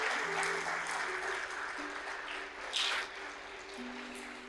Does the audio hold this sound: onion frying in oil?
no